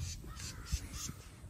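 Crows caw indoors in a room, giving several short, harsh calls in a quick irregular series, close by but fairly quiet, with no speech.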